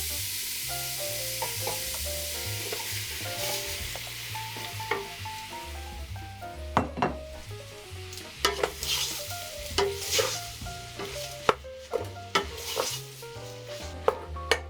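Pasta is stirred in a hot frying pan, a steady sizzle running throughout beneath repeated scraping stirs and occasional sharp clinks of a utensil against the pan, close up and with no talking.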